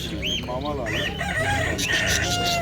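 Village chickens and ornamental crossbreeds at an Adana poultry and bird market cluck and call in quick, overlapping bursts, loud and close, with a rooster-like crow rising among them over steady crowd noise.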